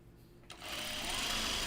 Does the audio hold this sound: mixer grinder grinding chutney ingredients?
no